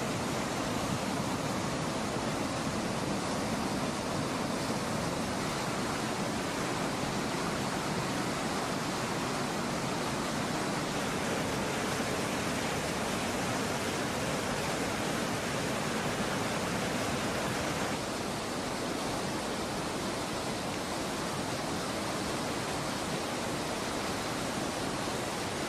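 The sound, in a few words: river rapids below limestone waterfall step, Lahemaa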